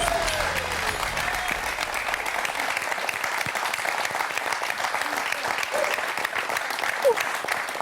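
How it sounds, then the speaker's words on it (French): Studio audience applause on a television quiz show, sustained even clapping from a crowd lasting several seconds, with brief faint host speech and a small rising sound effect mixed beneath. "Applaudissements mérités."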